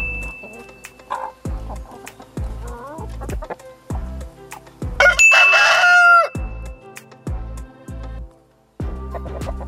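Chickens released from the coop on a farm cluck in a busy chorus of short calls, with a loud rooster crow rising in the middle and a persistent low thumping throughout.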